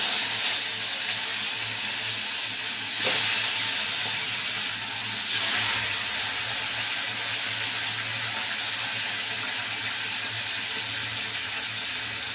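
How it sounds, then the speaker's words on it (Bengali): Fish fries in a smoking-hot wok with a continuous, even sizzle and hiss that runs without pause. Two brief spattering flare-ups rise over the steady frying, and there is no talk. "কড়াই গরম হয়ে গেছে, আমি মাছ ছেড়ে দেবো এবারে"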